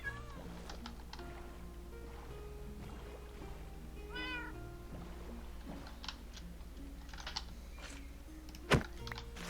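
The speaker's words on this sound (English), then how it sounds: "Come on, kitty cat." Several short cat meows from the Minecraft video game, spaced out over quiet background music, with soft keyboard tapping and one sharp click near the end.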